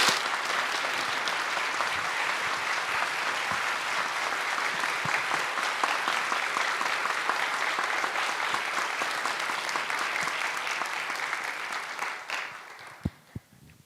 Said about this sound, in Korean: 우리 뜨거운 박수로 우리 환영해 주시면 좋겠습니다